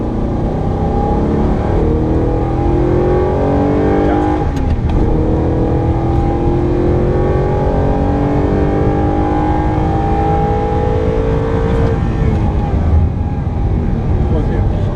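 On track, an Audi R8 pulls hard through repeated throttle applications, its loud engine roar climbing in pitch, dipping at a brief lift, then climbing again, with a voice talking throughout.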